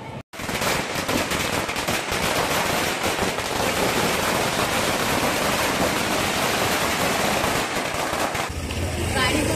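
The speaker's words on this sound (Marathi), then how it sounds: "आणि त्यासाठी फटाके वगैरेची सोय चालली आहे" Firecrackers burst in a long, dense, rapid string of loud cracks for a Ganpati arrival celebration outside a building, continuing almost without pause before trailing off at the end.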